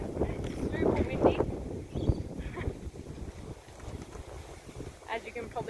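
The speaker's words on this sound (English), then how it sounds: "It's super windy." Strong outdoor wind buffets the microphone in loud gusty bursts while someone works on insulating a car bonnet, and someone talks through the roaring wind.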